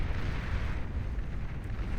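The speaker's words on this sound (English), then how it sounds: "The metal extractor explosion taking out most of them here" A metal extractor explodes in the real-time strategy game Beyond All Reason, giving a loud, sustained, rumbling roar of blast noise with no voices over it.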